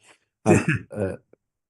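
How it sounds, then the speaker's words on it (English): Two quick, harsh coughs close to the microphone, back to back, then silence. "I heard you coughing."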